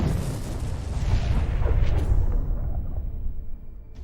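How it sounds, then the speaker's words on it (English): A kamikaze drone explosion destroying a tank: a sustained heavy rumbling blast that rolls on for several seconds, loud and dense with low-end boom, then slowly tapers off. "The kamikaze drone successfully copes with this task and gives us spectacular fireworks."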